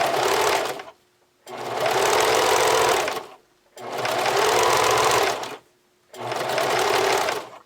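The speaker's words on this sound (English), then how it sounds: "as you're sewing, you just slightly stretch your elastic" A sewing machine stitches elastic onto lace fabric in four loud, steady bursts of motor whir, each two to three seconds long, with short silent pauses between them.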